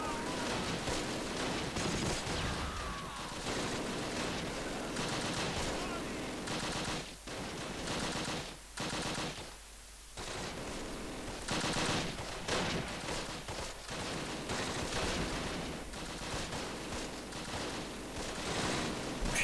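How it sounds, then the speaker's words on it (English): Machine gun fire from a team in a church in the Close Combat game rattles in long, dense bursts with brief pauses, loud and continuous, with scattered gunfire and battle noise around it. "Machine gun team here having fun from the church"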